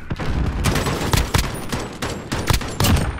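Heavy gunfire in a first-person shooter with sniper rifles in play: a dense run of sharp, loud shots, some overlapping and some spaced, close by and continuous throughout with no voices.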